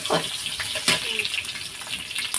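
Duck meat stirred in hot oil in a pan, a dense, hissing, spattering sizzle with scraping strokes, close and continuous, with no talk.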